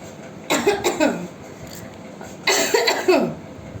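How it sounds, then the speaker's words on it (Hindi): Two bursts of harsh coughing, a few rapid coughs each, close and loud, separated by a quiet pause. "थर्ड पार्टी का नाम लेते ही खांसी मेरे को ज़रूर आती है"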